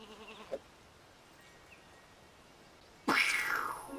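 Cartoonish sheep bleats from the video game Sheepy Sheepy: Isle of Ewe, a short wavering bleat at the start and a louder drawn-out bleat near the end, with quiet pauses between.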